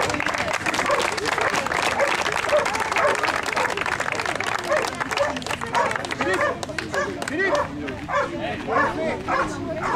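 An audience breaks into sustained clapping for a firefighters' search-and-rescue dog demonstration, dense at first and thinning toward the end, with dog yelps and chatter mixed through it.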